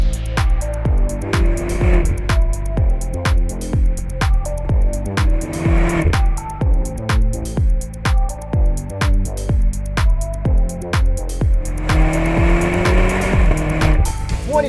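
A 2024 BMW X5M Competition drives under strong acceleration, its engine note climbing and dropping through repeated gear changes, loud and close from inside the car.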